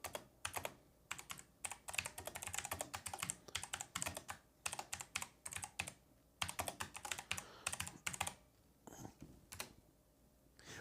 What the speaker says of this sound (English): Sorry, I got to type something real quick here.